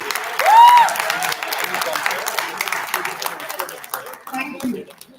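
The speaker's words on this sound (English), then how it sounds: "Can we have a huge round of applause for the team?" Audience clapping at a Model United Nations valedictory ceremony, moderately loud and continuous, with a brief whistle-like tone early on and scattered voices mixed in toward the end.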